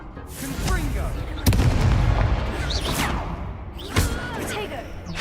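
Confringo blasting spell explosions in Hogwarts Legacy, several sharp booming bursts spaced a couple of seconds apart amid a busy duel, with voices present.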